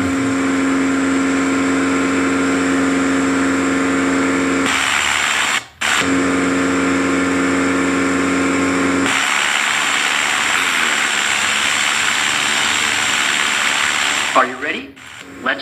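A small training airplane's piston engine drones steadily at high power in flight, a constant harmonic hum that briefly cuts out and shifts in tone midway, with the cabin noise continuing loud and close throughout.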